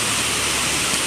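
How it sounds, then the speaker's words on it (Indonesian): A mountain river running full after rain, near a hillside village at dusk: a steady, loud, broadband rush of flowing water with no pauses and no voices. "Kita akan mendekat ke sungai."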